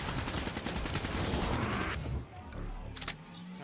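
Rapid automatic gunfire in the Call of Duty Black Ops III campaign, loud and sustained for about two seconds before cutting off, followed by quieter mechanical game noise.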